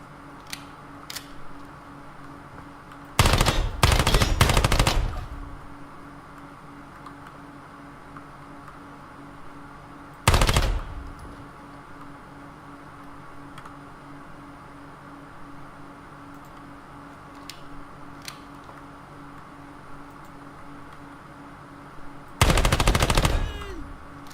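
MP5 submachine gun fired in the tactical shooter Ground Branch, heard as three loud bursts of rapid automatic fire separated by long quiet gaps, each lasting a second or two over a low steady background hum.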